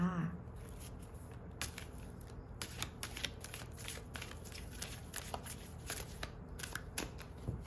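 Oracle cards are shuffled by hand, making quiet, repeated riffling and flicking sounds in an irregular rhythm, close and soft, with no talking.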